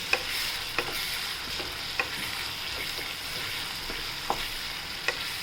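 A spoon stirs tomato rice in a pan, scraping with sharp clicks at irregular intervals over a steady soft sizzle, close and moderately quiet with no voices.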